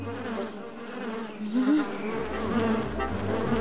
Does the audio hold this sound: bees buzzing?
yes